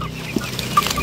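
Chickens cluck softly nearby in a garden, a few short clucks over a busy background of rustling and faint farmyard noise.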